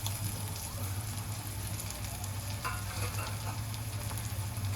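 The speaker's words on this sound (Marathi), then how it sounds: "आणि एकदा परतून घेऊया." Spices, salt and kokum are sautéed in hot oil for a sprouted matki curry, giving a constant crackling sizzle nearby, broken by the scrape of a spoon.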